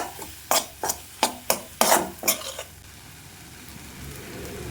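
Goat brain frying in a pan with chilli powder: about seven quick, rhythmic scraping strokes of a spatula stirring, each with a sizzling hiss, then a faint, steady sizzle alone.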